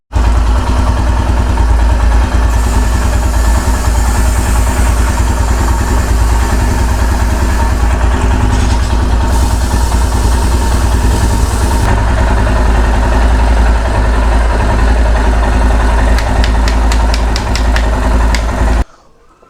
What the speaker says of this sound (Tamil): திரும்ப ஒரு வாட்டி பைக்கை ஸ்டார்ட் பண்ணிவிட்டு